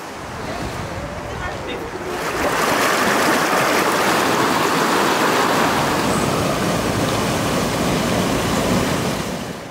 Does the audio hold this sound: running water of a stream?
yes